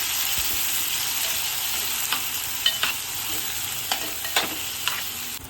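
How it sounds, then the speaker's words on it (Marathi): Garlic cloves, ginger and cumin seeds sauté in a pan with tomato. A steady close sizzle runs throughout, and a few sharper stirring clicks land at irregular intervals. "लसणाच्या पाकळ्या, आलं आणि जिरे घालून घेऊया, परतवून घेऊया"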